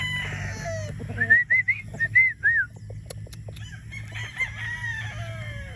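A gamefowl broodstag rooster crows close by on a game farm, one clear cock-a-doodle-doo rising and falling over a low background hum, with other birds faintly calling.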